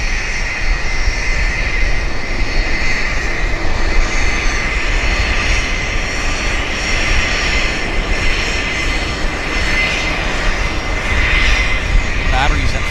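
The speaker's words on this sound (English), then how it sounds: "we got a King Air Medevac right here" A Beechcraft King Air medevac plane at Vancouver Airport, its turboprop engines producing a loud, continuous broadband roar that holds steady throughout, with faint voices in the background.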